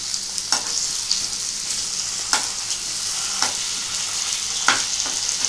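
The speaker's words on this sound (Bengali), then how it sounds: "পেঁয়াজটা অনেকটা নরম হয়ে গেছে, একটু ভাজা হবে" Hilsa fish and softened onions fry in a pan with a steady close sizzle, punctuated every second or so by scraping stirs of a utensil against the pan, no voices present.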